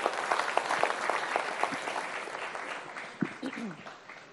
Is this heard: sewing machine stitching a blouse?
no